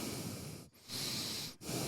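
Heavy, loud breathing through the nose comes close to the microphone in three long drawn breaths separated by two brief pauses; a voice imitates a woman breathing this way.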